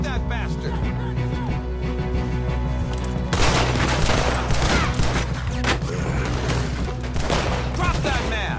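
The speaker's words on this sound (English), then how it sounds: "Will somebody shoot that bastard?" Rapid gunfire fills a shootout in Red Dead Redemption 2, with a dense fusillade of shots and booms crackling continuously. The volume rises noticeably around the middle, and a few raised voices break in over the shooting.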